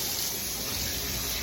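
Hot water runs steadily from a tap after an electric water heater was replaced at a mini golf site, a close, continuous broadband rush with no breaks.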